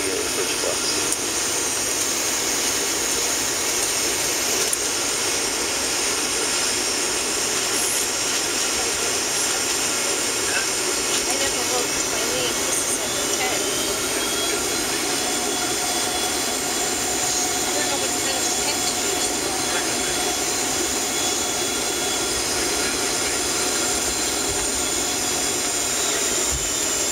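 Continuous loud roar inside the first-class cabin of a Continental Airlines Boeing 757-300 as it lands at Orlando International from Houston, a dense, steady jet-engine and airflow rush with no breaks.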